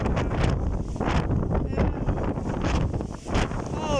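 Strong wind during a sandstorm in Kuwait gusts and buffets hard against the microphone in steady roaring bursts, with a brief spoken word over it.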